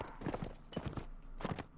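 A horse's hooves clip-clop in steady rhythmic beats during a battle in Mount & Blade Warband, close and moderately loud with no talk over them.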